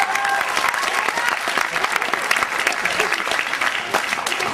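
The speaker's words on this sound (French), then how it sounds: "On applaudit Nour, s'il vous plaît." An audience claps for a singer being introduced on stage, dense continuous applause that stays loud and close throughout.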